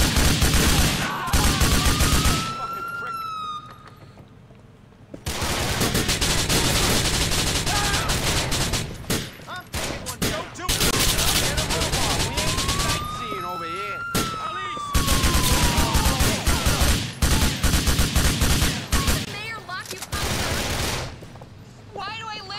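Sustained loud automatic gunfire in a Grand Theft Auto IV firefight against federal agents on PS3, long dense volleys broken by brief pauses, with speech occasionally heard over the shooting.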